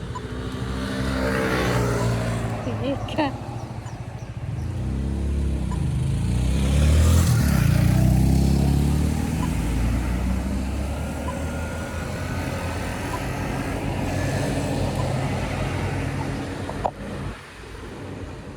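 Cars in slow city street traffic, a continuous engine rumble with vehicles idling and passing close by, swelling midway as one moves past, with a brief word spoken near the end.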